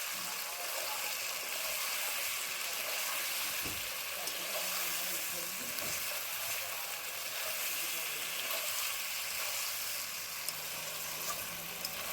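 Ginger paste frying with chicken in a pan for chicken kosha gives a constant loud hissing sizzle, with a few soft knocks of stirring beneath it.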